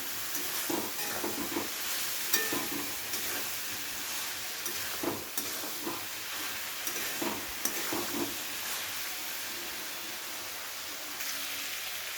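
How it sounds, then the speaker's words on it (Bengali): Spice paste sautéed with vegetables in a pan for a Bengali paneer dish, heard as a continuous frying sizzle with repeated stirring scrapes throughout, close and fairly even in level. "সেই মশলাটা দিয়ে খুব ভালো করে একবার কষিয়ে নেব সমস্ত সবজির সাথে"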